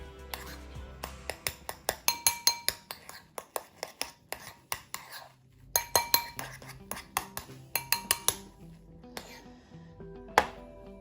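Spoon clinking repeatedly against a glass or ceramic bowl while stirring food colouring into a mixture, in quick rhythmic bursts of sharp taps separated by short pauses.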